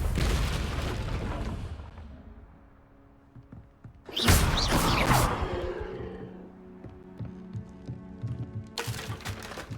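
The Confringo spell in Hogwarts Legacy sets off a sudden loud booming explosion that rumbles and decays over a few seconds, and a second burst follows near the end.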